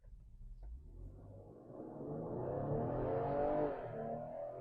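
A 400-horsepower twin-turbo V6 SUV launches hard from a standstill. The engine note climbs steadily in pitch and grows louder as it pulls, heard from inside the cabin with no talking.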